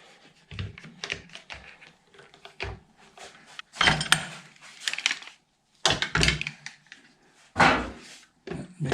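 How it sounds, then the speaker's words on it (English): Clamps set one after another onto a guitar body during neck pocket routing in a workshop, giving sharp close clacks and knocks with short ratcheting scrapes and quiet gaps between them. "put some clamps on it"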